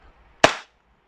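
A single sharp, snappy pop from a WE Hi-Capa 5.1 Type K airsoft pistol fired through a chronograph, close and brief with a short decay into quiet.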